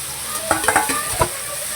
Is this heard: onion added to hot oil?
yes